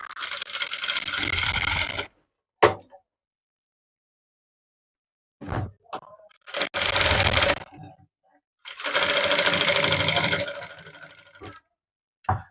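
A sewing machine stitches piping along the inner side of a seam for a beginner's project. It runs in several short bursts of mechanical whirring, separated by silent pauses and small clicks and taps.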